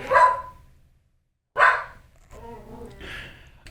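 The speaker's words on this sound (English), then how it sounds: "My dog is announcing the UPS man." A dog barks at a delivery driver arriving at the house: two loud, sharp barks about a second and a half apart, followed by softer whining and whimpering noises, nearby and indoors with no talking.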